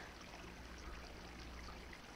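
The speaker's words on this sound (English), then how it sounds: "I love the sound of the river." A river flows steadily in the game Ether One, a soft, even trickling wash of water with no break, faint and distant-sounding.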